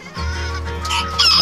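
Chickens, including a large hen, cluck and squawk close by in a busy, overlapping burst, with one louder shrill call near the end.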